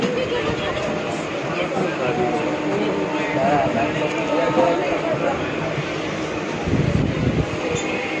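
A Howrah to Burdwan local train pulls out of Dankuni station, its steady rumble and rattle of carriages running continuously beneath people talking on board.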